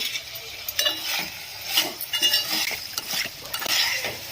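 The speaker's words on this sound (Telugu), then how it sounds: "ఒక 2-3 మినిట్స్ ఇలానే ఆయిల్లో ఫ్రై అవనిద్దాము." Boiled taro (colocasia) pieces fry and get stirred in hot oil in a pan for a tamarind stew, with a steady sizzle and repeated scraping, clinking spoon strokes against the pan, close and alone.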